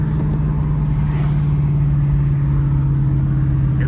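A V8 car running through a Corsa exhaust gives a loud, close, deep droning burble. It holds one steady low tone throughout, with no clear rise or fall in revs and no voices.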